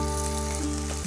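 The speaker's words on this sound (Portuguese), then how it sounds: "E agora você vai deixar a sua carne aqui, ó, fritando, pelo menos uns 4, 5 minutinhos" Salted dried beef (carne seca) frying in a pan on low heat gives a steady, close sizzle with a constant hum beneath it, ending in a short bump.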